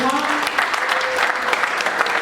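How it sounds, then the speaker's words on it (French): Applause for the witnesses at a wedding ceremony, a dense, steady clatter of many hands clapping close by for a couple of seconds, with some voices mixed in. "Applaudissez pour les témoins."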